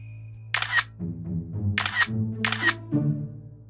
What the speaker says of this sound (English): In Korean, the sound of a camera click is 찰칵.